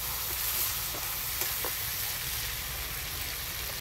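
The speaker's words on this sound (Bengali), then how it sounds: "কাঁচা লঙ্কাটা চিড়ে রেখেছিলাম দিয়ে দিলাম।" Slit green chillies sizzle in hot oil in a pan for a curry, giving a steady, continuous frying hiss with faint crackles throughout, no talking.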